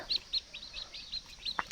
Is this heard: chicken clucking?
yes